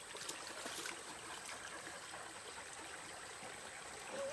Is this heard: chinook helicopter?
no